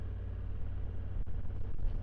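A Honda CRF1100 Africa Twin Adventure Sport DCT with a 19-inch front wheel and electronic suspension being ridden, its engine giving a steady low rumble with wind noise and a slight surge near the end.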